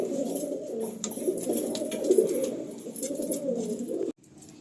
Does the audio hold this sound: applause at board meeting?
no